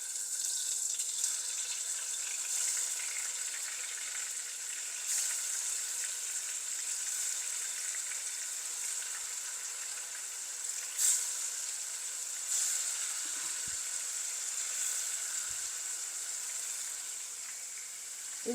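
Fish pieces deep-frying in hot oil for a spicy deviled fish dish: a steady, bright hiss and crackle of bubbling oil running unbroken throughout, close and even, with no talking.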